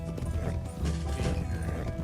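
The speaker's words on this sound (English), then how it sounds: "What kind of horse are you riding there, Jamie?" Horse hooves gallop in the video game Red Dead Redemption 2, a fast, dense clip-clop with a faint whinny mixed into the steady, close pounding.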